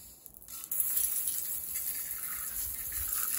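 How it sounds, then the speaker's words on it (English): Water sprayed onto a broken sodium lamp, a faint hissing spray that starts after a short quiet moment and continues as a soft, steady fizz. "spray a bit of water on it."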